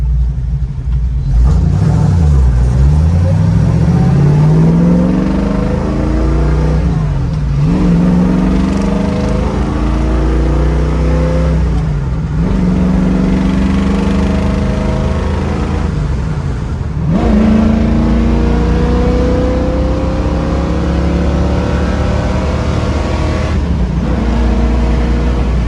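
A classic Ford Mustang Bullitt tribute with a carbureted engine and four-speed manual gearbox, recorded close and loud as it revs hard through repeated gear changes and a downshift, the engine note climbing and dropping with each shift, no voices.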